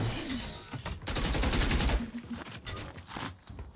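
Rapid gunfire in a video game as a magazine is emptied, a dense burst of shots up close followed by scattered single cracks and game noise.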